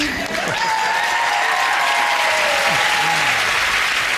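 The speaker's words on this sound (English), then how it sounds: "a big round of applause for our meerkat" A studio audience at a British comedy panel show breaks into a loud, sustained round of applause, steady and dense throughout with no talk over it.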